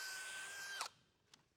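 A power drill boring a pilot hole into the ground for a cable stake at an outdoor predator-hunting demo, a steady high whine for under a second that cuts off abruptly, followed by a faint brief knock.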